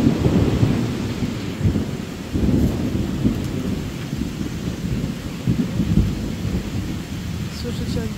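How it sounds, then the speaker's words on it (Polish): Thunder rumbles low and heavy through a downpour heard from a balcony, with rolling booms over a steady roar of heavy rain. "Słyszycie, jak grzmi?"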